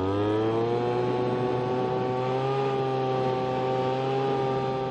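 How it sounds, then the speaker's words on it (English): A gas-powered leaf blower clearing out a leaky gutter seam, a steady loud engine drone with strong harmonic whine holding even pitch throughout, close by and alone. "the first thing that I'm going to do is use my blower to really blow this area out"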